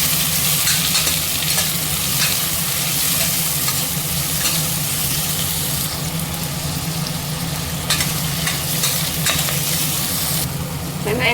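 Onions sautéing in a pan, with a steady loud sizzle and frying hiss running throughout and occasional scraping of a stirring utensil, close up with no talking.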